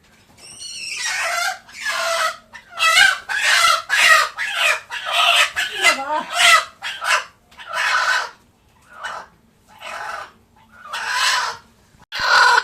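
Chickens in a village hatching setup cluck and squawk in repeated loud bursts with short pauses, a rooster-like call rising among them, close by with no talk.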